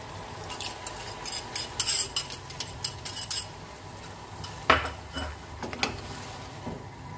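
Yogurt being stirred into meat in a cooking pot for kachnar gosht, with a spoon scraping and clinking against the pot in a quick run of strokes and then a few slower, louder knocks. The sound is close and there is no speech.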